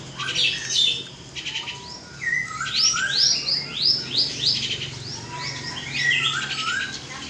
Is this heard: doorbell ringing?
no